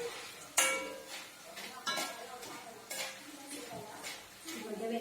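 Fried jackfruit pieces lifted out of hot oil with a large slotted ladle for Kerala-style jackfruit fries, giving several sharp metallic scrapes and clinks against the pan at irregular intervals, with faint background sizzle.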